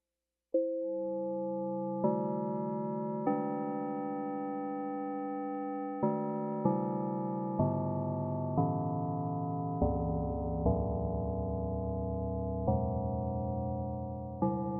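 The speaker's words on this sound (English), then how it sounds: "Very bell-like tones, and I honestly think of that a lot when I think of a FM synthesizer." Bell-like tones from an FM synthesizer, a slow sequence of clean sustained notes and chords, each struck with a soft attack and ringing on, heard alone with no talk.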